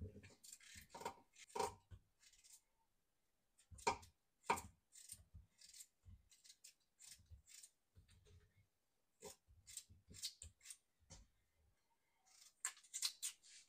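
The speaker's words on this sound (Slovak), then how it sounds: "Ošúpané zemiaky nakrájam na menšie kúsky." Peeled potatoes are chopped into small pieces on a kitchen surface: irregular clusters of sharp, close cutting knocks separated by brief pauses, with no talking.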